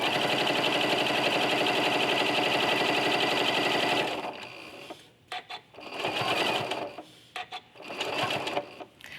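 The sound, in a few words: sewing machine stitching quilt binding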